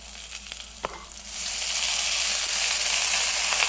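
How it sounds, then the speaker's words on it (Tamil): Rice being stirred into a hot pan for Tamil-style jeera rice, frying with a steady loud sizzle that swells after a second of quieter scraping and continues unbroken with no talk. "இப்போ இதில் ரைஸை போட்டு கிளறிடலாம்."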